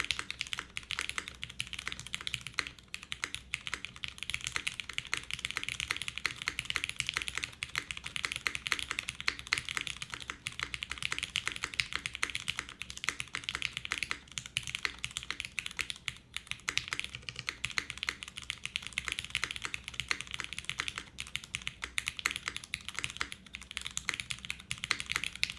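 Steady, fast typing on a gasket-mounted mechanical keyboard with an aluminum plate and Cherry stabilizers: dense, close clacking keystrokes fill the passage with no talking.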